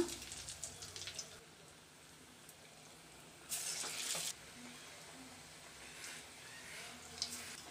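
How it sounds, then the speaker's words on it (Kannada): Brown chickpea masala vadas frying in a pan of hot oil on medium flame, giving a steady low sizzle with one louder burst of crackling partway through. No one speaks. "ಒಂದೊಂದಾಗಿ ಈಗ ಎಣ್ಣೆಲಿ ಹಾಕ್ಕೊಳ್ಳೋಣ"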